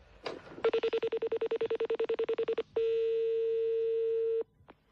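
Rapid pulsing tones of a phone line come first, followed by a long steady single tone, clear and close with nothing else audible as a call is placed.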